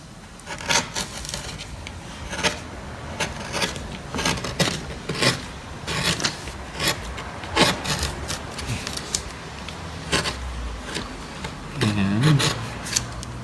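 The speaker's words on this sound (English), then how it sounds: "so then you take your gouge, which is the tool that you use the most" Hand gouge carving into wood in a carving demonstration, producing a series of short, sharp scraping and rasping cuts in an irregular rhythm, close and moderately loud, with a low thud near the end.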